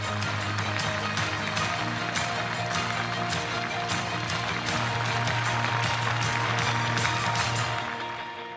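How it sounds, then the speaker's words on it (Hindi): An audience at a women's self-help group conference with PM Modi in Karahal breaks into loud, sustained clapping that holds steady for several seconds and then starts to fade at the end. "आइए जोरदार ताली से अभिनंदन करें"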